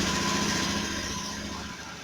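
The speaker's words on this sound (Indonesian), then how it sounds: "Nyalakan mesin." A Honda automatic scooter engine runs at a steady, buzzing idle after being started, close and fairly loud, fading slightly toward the end with no talk.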